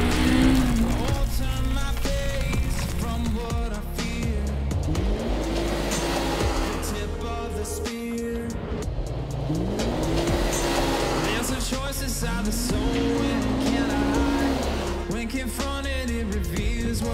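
A 2023 Polaris RZR Pro R side-by-side with a 225-horsepower engine driving hard, its engine rising and falling through repeated revving sweeps, loud and close, with voices heard over it.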